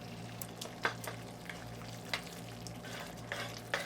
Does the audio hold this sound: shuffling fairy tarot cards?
no